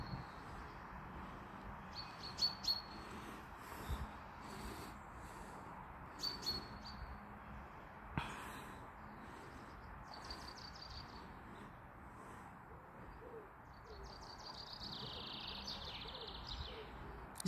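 Large male blackbird on a tree branch giving short, scattered chirps and calls at a distance, faint against a steady outdoor background hiss.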